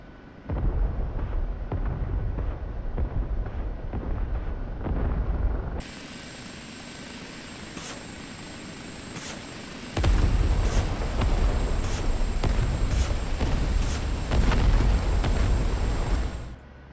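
High explosive rockets fired from an OH-58D Kiowa helicopter in DCS World: a steady rotor and engine drone carries a series of sharp, evenly spaced rocket launch bursts, with heavier rumbling in the latter half.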